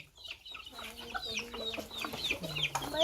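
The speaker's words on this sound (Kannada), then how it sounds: "ಎಲ್ಲ ನಾಟಿ ಕೋಳಿನೇ ಕಣ ಇದು." Native country chickens, hens with a black rooster, cluck and chatter close by in a village yard, a busy overlapping series of short calls and rising squawks at moderate volume.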